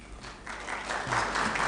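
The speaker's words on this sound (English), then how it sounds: "we're going to pass on that applause to Maud" Applause from an audience following a closing thank-you in a discussion of water privatisation, a steady wash of clapping that swells slightly toward the end, moderately distant and without voices over it.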